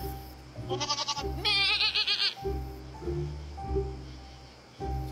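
A goat bleats loudly twice up close, a short wavering call followed by a longer one, over a low steady background hum.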